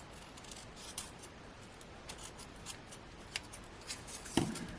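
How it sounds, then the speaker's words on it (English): Scissors snip quietly at fluffy paper-craft trim, a few faint, sharp clicks scattered over a hushed room background. "I've just chopped it off with some scissors"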